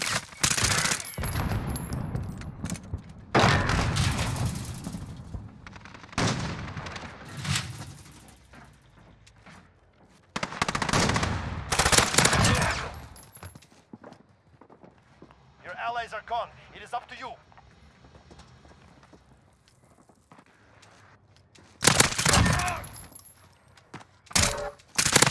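Sykov pistol gunfire in a video game comes in several rapid bursts of loud close shots, separated by quieter gaps, with players talking throughout.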